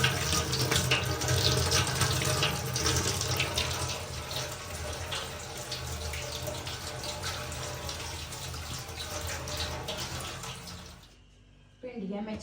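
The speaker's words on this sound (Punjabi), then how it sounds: "ਭਿੰਡੀਆਂ ਮੈਂ ਚੰਗੀ ਤਰ੍ਹਾਂ ਧੋ ਲਈਆਂ" Tap water runs steadily into a sink while okra is washed, a continuous close hiss with small splashes and handling noises. It cuts off near the end.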